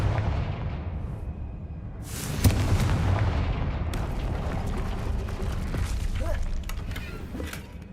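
A Confringo blasting-curse explosion in a wizarding video game: a sudden bright burst followed by a deep, rumbling boom that lingers under dense, noisy debris and ambience.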